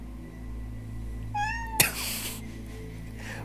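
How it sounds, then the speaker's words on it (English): A pet cat named Lila meows once, a clear rising and falling call near the listener, followed by a sharp click and a short burst of rustling noise, with a faint second meow toward the end. "What are you meowing at, Lila?"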